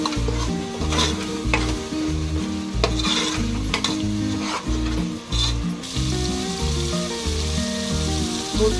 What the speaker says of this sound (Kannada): ಚಮಚ ಅರಶಿನ ಪುಡಿ ಚೆನ್ನಾಗಿ ಫ್ರೈ ಆಗಬೇಕು.